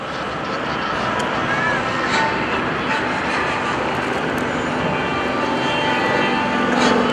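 A PT-17 Stearman biplane trainer with a roughly 220-horsepower engine flies past at an airshow, producing a steady, loud broadband engine roar that holds throughout with no clear rise or fade.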